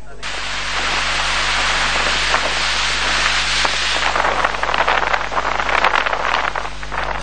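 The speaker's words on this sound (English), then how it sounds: "the heavy showers were accompanied by strong winds" Heavy rain pours steadily with strong winds during widespread adverse weather and flooding, a dense continuous hiss that stays loud and even throughout, with no voices.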